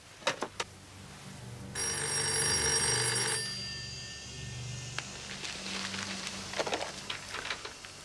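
A telephone bell rings in one long burst in a quiet room, followed by softer room noise and a few faint knocks, with no talking over it.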